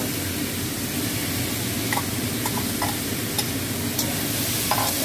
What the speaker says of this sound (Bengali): আমি আলু আর বরবটি ভাজাটা দিয়ে দিচ্ছি